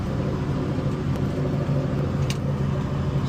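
Electric-converted Datsun 240Z on a test drive, giving a steady low rumble of road and drivetrain noise with a faint whine, continuous and fairly close, no voices.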